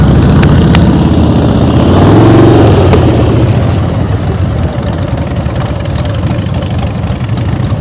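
A motorcycle engine is given more throttle while riding at slow speed during a practice session. The engine runs loud and close as a continuous low rumble, swells and then settles back to a steady drone.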